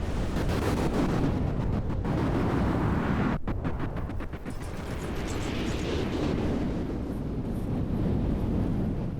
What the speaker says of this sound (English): Not sure where that explosion was.